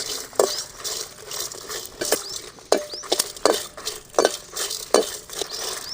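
Dried fish fried in a pan is stirred with a utensil, giving repeated sharp scraping clinks roughly every half second over a soft background sizzle.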